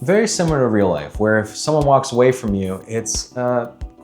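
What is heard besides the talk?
No distinct noise like a dog, phone or traffic.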